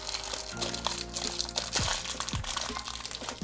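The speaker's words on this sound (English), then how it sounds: "you have your wheel wrapped in a separate plastic wrap just to protect it from scratches" Protective plastic wrap is peeled and crinkled off an aluminum RC car wheel, making close continuous crackling and rustling with a few sharper crunches.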